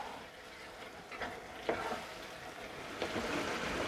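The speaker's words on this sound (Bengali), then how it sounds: "আর দিয়ে এবার আমি ভালো করে এটাকে কষাবো।" Chilli chicken sauce with sugar being stirred and fried in a pan, a steady low sizzle broken by a few sharp scraping and stirring strokes, close and fairly quiet, with no talking.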